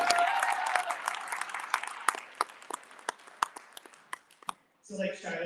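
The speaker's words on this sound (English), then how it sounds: "Let's give Shiloh one more round of applause." An audience at a San Diego Pride leadership meeting claps for Shiloh: dense applause that thins into scattered individual claps and dies out, then a voice briefly starts talking.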